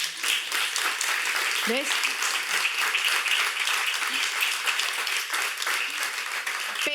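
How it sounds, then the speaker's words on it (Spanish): Audience applauding a guest speaker at a talk on innovation, a steady dense wash of clapping lasting throughout, with a brief voice cutting in near the end. "Voy a pedir un aplauso, aplauso para Ana, por favor"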